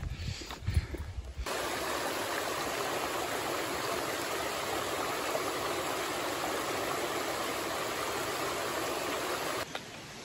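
A creek in the White Mountains rushes in a continuous, loud wash of flowing water, close by and unbroken after a brief rustle at the start.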